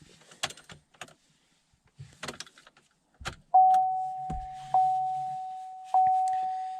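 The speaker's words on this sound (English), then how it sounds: "on tune, you have to turn the ignition on" A GMC Sierra's ignition switched on: a few soft clicks and key rattles, then a loud, sustained electronic chime that sounds three times, each strike decaying, over a low hum.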